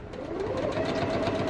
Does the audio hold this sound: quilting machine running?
yes